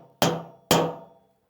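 Two sharp metallic strikes of a hammer driving a hand punch through a stack of eight steel sheets, each blow ringing briefly and decaying, close and loud with no talk.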